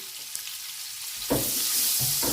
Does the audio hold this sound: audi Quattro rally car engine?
no